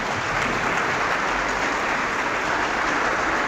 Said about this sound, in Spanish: Un aplauso para el hermano.